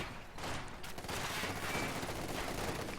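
Distant, faint rattling fusillades of rifle and machine-gun fire in a World War II strategy video game, with paratroopers firing on conscript infantry, a continuous low crackle of shots.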